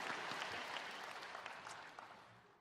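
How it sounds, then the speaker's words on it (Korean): A church congregation claps during a Sunday worship service, broad dense applause from many hands that runs steadily and fades slightly toward the end. "우리 하나님께 영광의 박수를 드리겠습니다."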